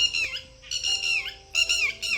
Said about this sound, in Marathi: हा पक्षी सहसा जास्त करून गावाकडेच बघायला भेटतो